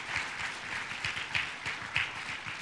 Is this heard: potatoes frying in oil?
no